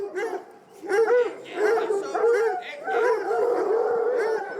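Hunting hounds bay and howl during a hunt with hounds in the forest of Compiègne, Oise, a pack of overlapping drawn-out cries rising and falling continuously at moderate distance.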